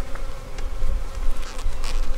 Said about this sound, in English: They're not just bees, they're angry bees.